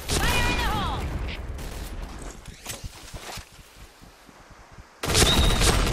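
Bursts of gunfire in the online shooter Point Blank, a dense rattle of shots at the start and a loud burst at the end, with quieter in-game clatter in between, close and alone.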